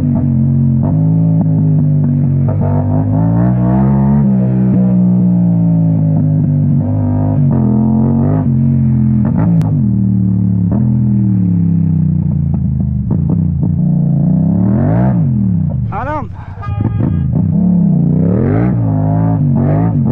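A Yamaha MT-07 motorcycle fitted with an Akrapovic exhaust runs loud and close, its deep throbbing engine note holding steady, then revving up and falling back in several sharp swells near the end.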